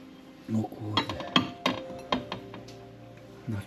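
Several sharp clinks of old ceramic dishes knocking together in an abandoned wooden house, irregular and close, with quiet pauses between.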